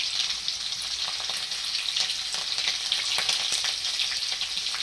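Cumin seeds and green chillies spluttering in a little hot oil for sabudana khichdi, a loud, continuous close-up sizzle with scattered crackling pops throughout and no voices.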